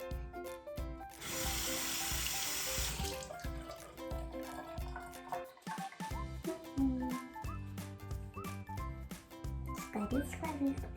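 Water runs from a bathroom tap into a sink in a short steady gush, then gives way to scrubbing and splashing noises while a voice sings and chatters over it.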